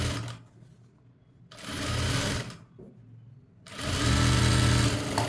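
Close, loud bursts of a sewing machine stitching a blouse with double-stitched sleeves. Three runs of about a second each are separated by short pauses, and no one speaks.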